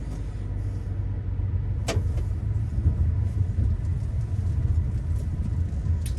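A 2014 Peugeot RCZ with a six-speed manual gearbox pulls away in first gear, its low engine rumble steady and close, with one sharp click early on and no talking.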